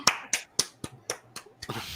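A single person clapping about seven times in an uneven rhythm, sharp close claps spaced roughly a quarter second apart and fading slightly, with no other voices joining.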